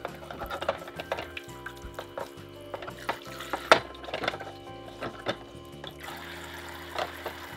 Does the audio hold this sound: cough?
no